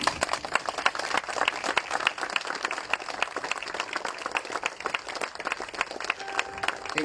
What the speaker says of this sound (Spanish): el profesor Gustavo Alberto Vázquez Montes, para quien pedimos un respetuoso aplauso